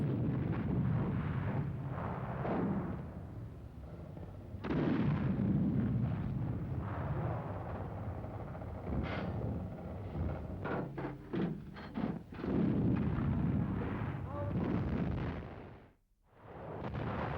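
World War Two German artillery guns fire in archive footage, with repeated heavy booms and rumbling blasts coming in bursts and clusters over a dense, noisy background, loud throughout with a short dip near the end.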